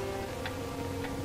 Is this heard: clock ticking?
yes